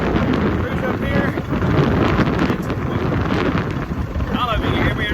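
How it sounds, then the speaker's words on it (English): Strong wind buffets an outdoor microphone during evening lawn mowing, a loud steady roar of rumbling gusts filling the whole stretch, with a person talking faintly underneath. "I don't know if you can hear me or not, this wind."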